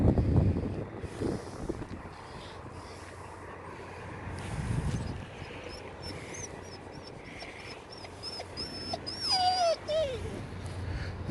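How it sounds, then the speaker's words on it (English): A dog whines in high, wavering whimpers, clearest near the end, amid gusty wind noise at a port. "you're going to have to put up with the sound of the dog whinging"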